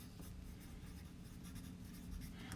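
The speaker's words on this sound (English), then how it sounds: "We always write our name and our teacher's name first" Steady scratchy rustle of pen or pencil moving across paper, close by and continuous, with no voices.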